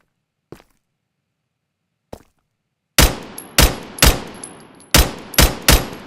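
Video game gunfire: two faint isolated clicks, then a rapid burst of loud, sharp shots in an uneven rhythm, each with a short decaying tail, with no talking.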